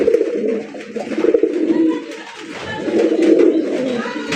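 Pigeons on a breeding farm coo steadily in a low, throaty, continuous chorus, close and fairly loud, with the soft rolling calls overlapping throughout.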